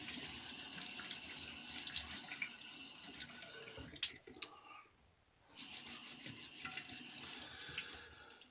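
Tap water runs and splashes into a sink while a face is wet before a shave, a steady close gush broken by a few sharp knocks and a short pause before the flow resumes.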